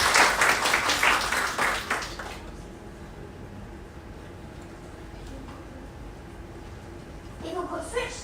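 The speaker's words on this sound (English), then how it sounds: "Let's give him a round of applause." Applause from a live audience at a speech competition, loud clapping for about two seconds that fades into quiet room noise, with a brief flurry of sound near the end.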